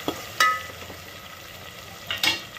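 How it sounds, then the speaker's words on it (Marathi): Garlic and ground masala paste fry in hot oil with a soft sizzle, broken by a couple of sharp utensil clinks against the pan as it is stirred. "तर यात आपल्याला सगळे वाटण टाकायचं, छान परतून घ्यायचं."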